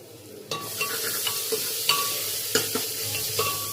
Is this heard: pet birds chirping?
no